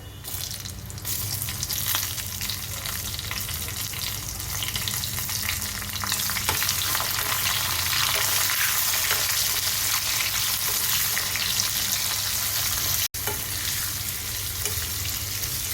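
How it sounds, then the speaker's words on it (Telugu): Raw mango pieces fry in hot oil with a curry-leaf tempering, making a loud, continuous close sizzle with some stirring and one sharp click near the end, with no voices. "తాలింపు బాగా ఫ్రై అయిన తర్వాత ఇందులో పచ్చి మామిడికాయ ముక్కలు వేసుకోవాలి."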